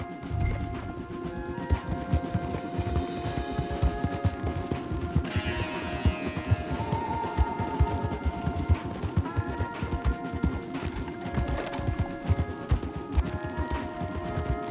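Horses gallop hard through Red Dead Redemption 2 gameplay, a steady rush of hoofbeats running the whole time under a dense, loud mix of game music and ambience.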